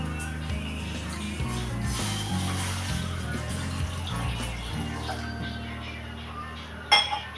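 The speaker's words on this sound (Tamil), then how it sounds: "1 கிளாஸ் தண்ணி ஆட் பண்ணிக்கிறேன்." Water from a glass is poured into a cooking pot on a stove, a soft continuous splashing with faint clinks of metal, set over quiet background music, with a sharp clank near the end.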